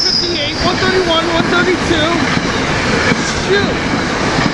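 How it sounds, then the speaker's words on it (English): A long string of SEPTA train cars, running deadheaded back southbound, rolls past at Cornwells Heights at a steady, fairly close rumble with faint wheel squeals over it, and a voice talks over the passing train. "Here we have a huge line of SEPTA train cars."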